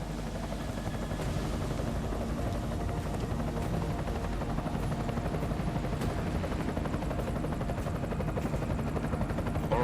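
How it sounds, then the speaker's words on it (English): In the Deus Ex: Mankind Divided game, an enemy helicopter's rotors thump in a continuous dense drone, steady and fairly distant throughout, with no voices over it. "Enemy helo sighted."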